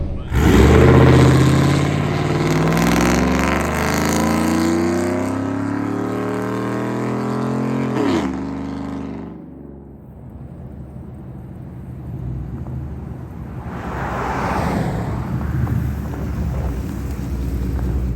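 A freshly tuned Sierra pickup with a 5.3 V8 accelerates hard, its engine note climbing through the revs loud and close, then dropping away to a cruising hum with wind buffeting the microphone.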